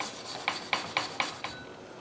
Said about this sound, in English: grate the ginger with your microplane grater